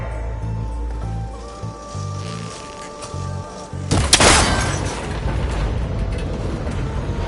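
Gunshot in Horizon Forbidden West breaking a connector that holds tower cables together, a sharp loud crack followed by a burst of debris and rumble, with game music playing under it.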